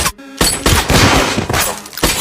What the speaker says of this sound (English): Every bullet from Eli hit its target